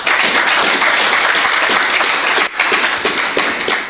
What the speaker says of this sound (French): Est-ce qu'on peut acclamer pour eux aussi?